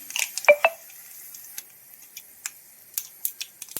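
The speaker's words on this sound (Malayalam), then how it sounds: "എണ്ണയൊക്കെ ചൂടായി നമുക്കിനി കടുകിട്ട് കൊടുക്കാം" Mustard seeds dropped into hot sesame oil for a pickle, sputtering: scattered sharp pops and crackles, a cluster at first and then irregular single bursts, close against a quiet background with no speech.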